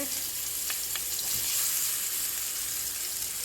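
Chopped peppers hit a hot pan for vegetarian fried rice. A loud, dense, hissing sizzle carries through the whole short stretch, with a couple of faint clicks early on and no voices.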